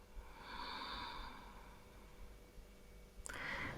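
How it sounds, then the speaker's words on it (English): A slow, deep exhale during a yoga breathing cue for back pain, a soft airy breath lasting about two seconds, close and quiet, followed by a brief louder rustle or breath near the end. "Deep breath out."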